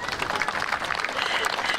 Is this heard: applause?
yes